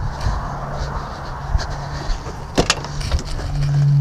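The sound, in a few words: electric windows opening on classic Ford F150 pickup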